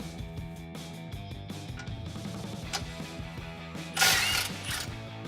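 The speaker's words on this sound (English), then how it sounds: "we're going to undo the two 13mm bolts that are holding these hangers in place" A hand ratchet undoes 13mm bolts on the exhaust hangers of a 2015-2017 Mustang GT Fastback, giving steady close clicking over a mechanical background hum, with a louder burst of noise near the end.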